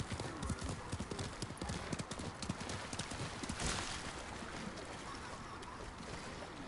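Horse hooves clip-clop at a steady pace in the video game Ghost of Tsushima, loud and close, with a brief whinny and ambient game sound throughout.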